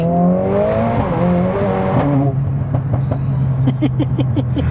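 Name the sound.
Mercedes-AMG A45S gear shifts while accelerating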